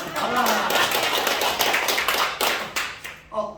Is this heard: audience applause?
yes